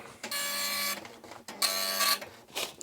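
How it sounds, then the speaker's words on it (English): An Epson RX-80 dot matrix printer prints in two bursts, each a loud, buzzing, rasping line of about a second separated by a short pause, with a third pass beginning at the end; close and alone. "And the printer reacts."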